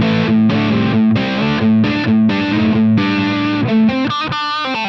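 Heavily distorted electric guitar through a Line 6 Helix Vitriol amp model, playing chugging chords and a short riff, with a faint wash of reverb trailing each note.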